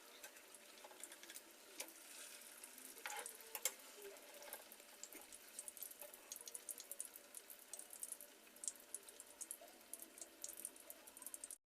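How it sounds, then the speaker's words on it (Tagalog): Tofu shrimp patties fry in a pan, a faint, quiet crackle of scattered pops and sputters over a soft steady hiss. "Iprito natin siya hanggang sa mag golden brown."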